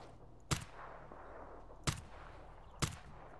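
Three sharp, well-spaced gunshots ring out in S.T.A.L.K.E.R. Anomaly, each a loud crack with a short tail, set over a low, eerie ambient hum.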